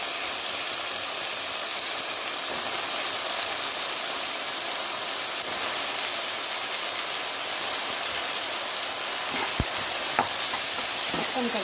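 Eggplant pieces and browned onions stirred in a frying pan, giving a steady, dense sizzle with scraping under it, a few sharp utensil clicks near the end, no talking.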